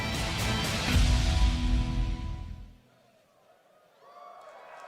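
Crowd cheering at the NA LCS 2016 Summer Grand Final esports match, a loud roar for the first half that fades away to near quiet, with a faint voice afterward.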